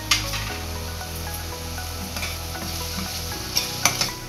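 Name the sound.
tomatoes with salt cooking in pan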